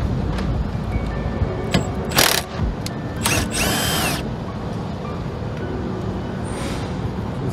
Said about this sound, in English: Just get a 10mm socket and take those off.